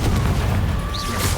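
A Confringo fire spell blasts in the Hogwarts Legacy game as a loud, deep, booming burst that rolls on through the moment without a break.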